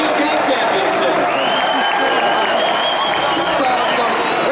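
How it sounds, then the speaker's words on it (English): Large crowd at the Pokemon Video Game Championships 2014 world finals erupting in sustained applause and cheering, a dense continuous roar of clapping throughout, with commentary voices speaking over it. "This crowd is going crazy."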